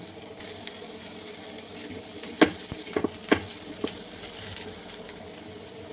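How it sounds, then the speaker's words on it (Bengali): Shredded cabbage and peas go into a hot pan, setting off a soft, steady sizzle broken by a few sharp scrapes and clinks of stirring. "এবার আমি এখানে পাতাকপি আর এই মটরশুঁটিগুলো এখানে দিয়ে দেবো"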